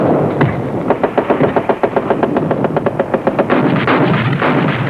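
Military machine guns lay down suppressive fire in rapid, regular bursts of loud reports over a rumbling background, without a voice.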